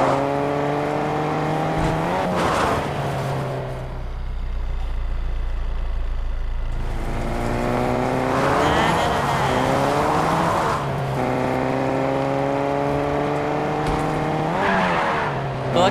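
Car driving around a town in Fortnite, with engine tones rising and falling through gear changes and tyre squeals, a brief quieter stretch mid-drive, then repeated revving and acceleration, loud and continuous.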